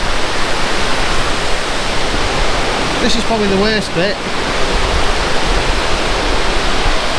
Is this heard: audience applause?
no